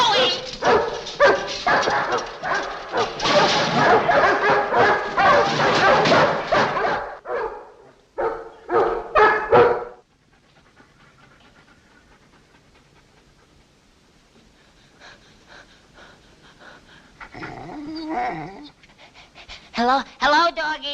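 Several dogs pant heavily and let out a few barks up close, loud for the first ten seconds, followed by a quieter stretch with faint sounds and some voices toward the end.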